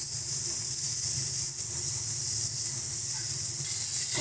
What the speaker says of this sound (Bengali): তো চলো ফুলকপিটা আমাদের ভাজা হোক